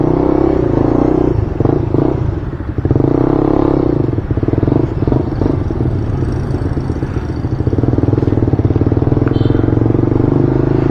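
A motorcycle with an aftermarket exhaust pipe revs repeatedly close by, its loud engine surging and dropping in uneven bursts over a continuous low rumble, with occasional clatter.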